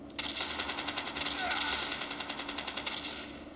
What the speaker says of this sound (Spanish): Disparo brutal